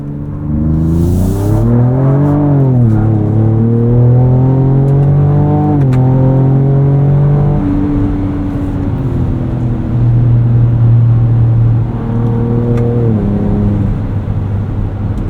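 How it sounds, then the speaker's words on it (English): The V6 engine of a 2024 Ford Ranger Raptor pickup truck revs and accelerates loudly, pitch rising and falling through gear changes, a strong continuous growl close to the microphone. "Really starting to like the way this V6 sounds too"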